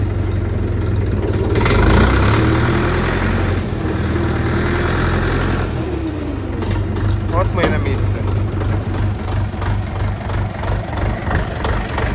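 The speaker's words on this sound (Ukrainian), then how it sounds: "звичайна робота КМ двигуна" A four-cylinder Forte RD404 tractor engine idles steadily with a low, even rumble, a brief rise in revs early on, and occasional clicks and short bursts of sound over it.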